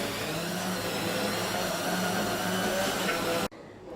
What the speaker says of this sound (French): On va maintenant passer au mixage.